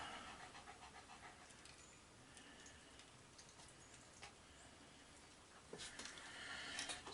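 A dog pants steadily and audibly through a warm day in a workshop where an R2 droid is being built, the quick breathy rhythm continuing throughout with a few small clicks and knocks in the background.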